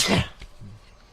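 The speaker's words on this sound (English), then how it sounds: "Really, I just sneezed." A single loud sneeze bursts out at close range, sharp and breathy at the start, then trails off into quieter room noise on a podcast set.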